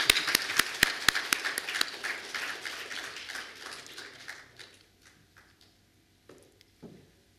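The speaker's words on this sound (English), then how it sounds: "A round of applause to the" Scattered applause at a police swearing-in ceremony for a new Inspector General, a few sharp claps up front that thin out and fade to quiet after a few seconds.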